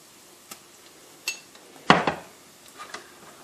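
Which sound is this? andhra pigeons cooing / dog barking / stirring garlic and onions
stirring garlic and onions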